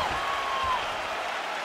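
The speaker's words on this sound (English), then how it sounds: "an appreciative crowd responding in kind" Applause and cheering from a virtual arena crowd in the UFC 5 fighting game, a steady broadband wash of clapping at a moderate level right after a round ends, with no talk over it.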